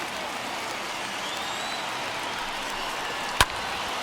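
A baseball stadium crowd of about 25,000 in Baltimore keeps up a continuous broad roar and cheer, steady and enveloping, with one sharp crack near the end.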